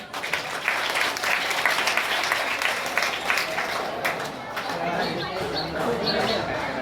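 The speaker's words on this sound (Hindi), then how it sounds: "जोरदार तालियां।" At a village high school prize event, an assembled crowd gives loud, sustained applause, a thick continuous clatter of hands with some chatter and voices mixed underneath.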